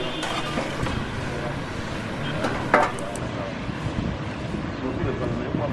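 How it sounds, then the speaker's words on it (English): Wind gusts across an open rooftop on a windy day, a steady broadband rush of air buffeting the microphone throughout, with a brief louder gust near the middle. "It is a windy day up here on the rooftop, and you're hearing the wind blow in the video"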